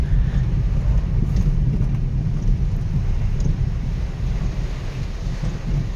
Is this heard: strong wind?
yes